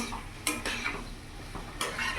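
Boiled jackfruit is stirred and sautéed in a pan over a medium gas flame, a quiet low sizzle broken by a few metal spatula scrapes and clinks against the pan, no talk.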